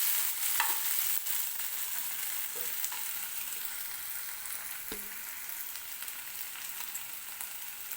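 Dry spices frying with softened tomato in hot oil, a faint, steady sizzle with occasional light clicks and taps of a spoon against the pan, no talking.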